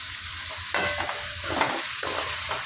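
Chopped tomatoes and curry leaves fry and sizzle in a pan, a steady hiss with a few louder stirring scrapes, close and alone with no talk.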